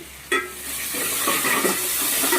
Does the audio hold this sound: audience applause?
no